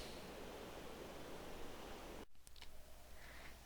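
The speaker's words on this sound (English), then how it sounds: "One moment for the rain." Rain in Minecraft with the Thaumcraft 3 mod, a steady hiss of falling drops that cuts off abruptly partway through, followed by a couple of faint game sounds in near quiet.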